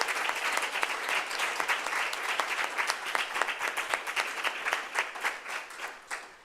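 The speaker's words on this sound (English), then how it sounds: "So let's give him a round of applause." A student senate session applauds its clerk, Noah Carter, in recognition of his service: a room of people claps steadily and fairly close for several seconds, with a few individual claps standing out near the end.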